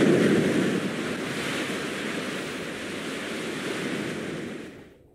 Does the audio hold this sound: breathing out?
no